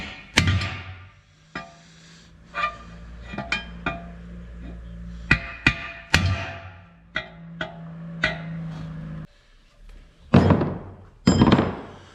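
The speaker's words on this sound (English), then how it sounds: "I'm just going to give it a couple swats with this chisel" A chisel is struck hard several times against a 48RE automatic transmission part during a rebuild, giving sharp metallic bangs and thunks at irregular intervals over a low background hum, close and loud.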